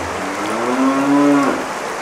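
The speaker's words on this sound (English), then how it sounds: "Get that cow out of here!" A cow in an Australian rainforest lets out one long, close, loud moo that rises and holds before fading, over a steady wash of rain or running water.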